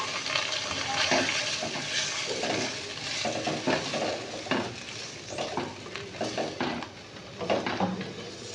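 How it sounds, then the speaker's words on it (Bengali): Masala of ground cumin and chopped tomato sizzles in a pan as a little water is added, a steady close frying hiss with scraping stirs over it and faint background voices. "মশলাটা কষানোর জন্য এর মধ্যে অল্প করে আমি একটু জল দিয়ে নিচ্ছি।"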